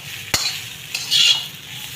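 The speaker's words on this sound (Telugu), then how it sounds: "ఇవన్నీ ఒకసారి కలుపుకుందామండి" Aloo methi curry with coconut powder being stirred, with one sharp clack of the spoon against the pan and a soft sizzle and scraping afterward, no voices.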